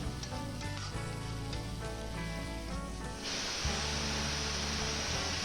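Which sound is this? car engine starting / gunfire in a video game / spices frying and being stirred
spices frying and being stirred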